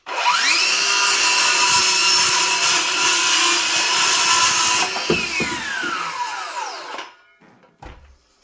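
A battery-powered cutter whines loudly and steadily through a drain pipe during a bathroom floor repair, then winds down with a falling pitch and stops, followed by a few faint clicks and clunks.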